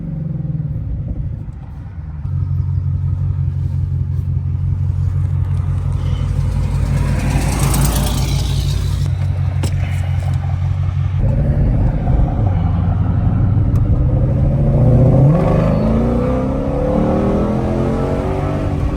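Ford Shelby GT500 engine driven through city streets in Chicago, a loud close rumble that climbs and drops through revs, with a deep steady drone and rising acceleration swells.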